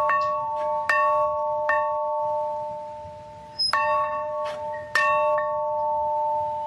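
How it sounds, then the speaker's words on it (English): Several clear bell strikes ring out with long sustained tones, spaced irregularly, fairly close and loud, with no voices. "The bells invite me. Hear it, Duncan"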